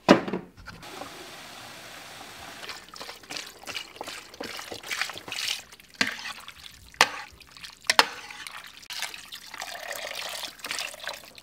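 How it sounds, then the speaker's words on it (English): Water is poured into a pot of rabbit soup being made with broth base, an uneven splashing and trickling stream with a few louder gushes, heard close and alone. "We're gonna add water now."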